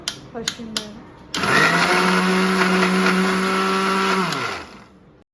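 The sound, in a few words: mixer grinder (mixie) grinding bread pieces to powder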